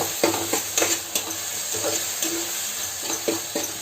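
Chopped tomatoes sauté in a hot pan, giving a steady close sizzle broken by repeated scraping and clattering stirs of a spoon against the pan.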